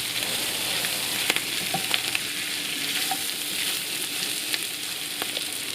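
Turmeric, chili powder and Durban masala spices fry steadily in a pan for a bunny chow curry. The sizzle is continuous and close, with a few soft stirring taps scattered through, and no one talks.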